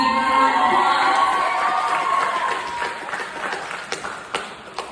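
An audience claps and cheers for a Sacramento city councilwoman at a community event, starting with a loud burst of whoops and voices that tapers into scattered claps.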